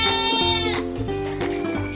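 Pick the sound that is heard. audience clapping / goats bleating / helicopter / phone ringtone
goats bleating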